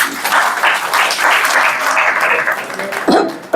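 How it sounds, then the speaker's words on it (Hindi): An audience at an Indian devotional gathering claps together loudly, sustained crowd applause filling the room for several seconds before tapering off. "ताली बजाओ इनकी।"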